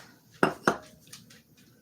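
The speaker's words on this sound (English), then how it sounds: "I love my spatula to get this molasses out of there" A spatula working molasses out of a container during gingerbread dough prep, two quick close scraping knocks against the container followed by a fainter clink, otherwise quiet.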